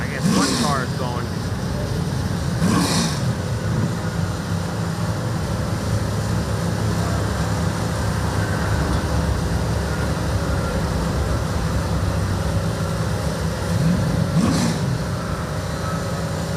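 At a drag strip, a race car accelerates down the track with a steady, sustained engine roar heard from a distance, with a few louder passing bursts; people talk nearby throughout.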